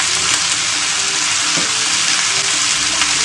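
Tomato and coconut pieces fry in a pan for chicken roast, a loud, steady, dense sizzle with faint stirring underneath.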